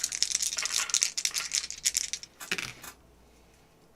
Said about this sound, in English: I'm going to re-roll any number of my unspent dice.